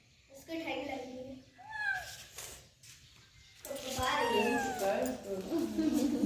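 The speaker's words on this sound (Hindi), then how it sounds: "बिल्ली" A cat meows several times, with high drawn-out cries mixed among people talking nearby.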